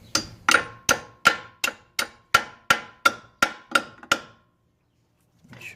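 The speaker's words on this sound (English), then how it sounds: "go ahead and get the hammer and hit the bottom" A hammer strikes the bottom suspension bolt on an Infiniti G20 during a KYB shock and Tein lowering spring install, eleven loud metallic blows in a steady, even rhythm, each ringing briefly, then a pause.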